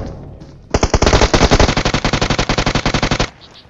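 Automatic gunfire in the BGMI battle royale game: a dense, loud spray of rapid rhythmic shots lasting about two and a half seconds, standing alone after a quiet lead-in.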